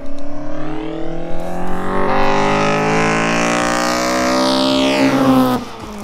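A car with a Rover K-series VVL engine revs loud and close, its tone climbing steadily as it accelerates, then cutting off abruptly near the end.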